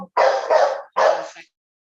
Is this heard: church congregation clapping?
no